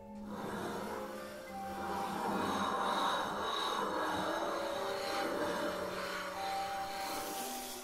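A lithography stone being ground with grit and water, a continuous gritty rubbing and rasping that swells and fades steadily, with faint tonal hum underneath.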